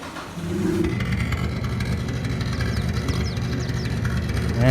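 A Toyota Hilux Revo pickup truck engine in a modded Thai driving video game runs steadily, with a low, even, close hum and a slight rev near the end, alone with no talk.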